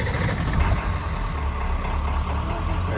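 Ford F350 4x4 crew cab turbo diesel truck idling, a steady low rumbling engine drone close by with no talking.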